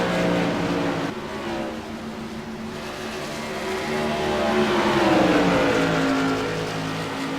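Modified stock race cars at speed on the Rockingham Speedway oval during a CRA tour event, several engines roaring loudly and continuously with rising and falling pitch as the cars come off a turn and pass close by.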